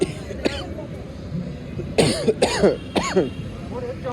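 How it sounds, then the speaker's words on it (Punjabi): Several sharp coughs in quick succession, a couple of them close together, with a few short vocal sounds between them. "ਖਾਂਸੀ ਹੋ ਗਈ"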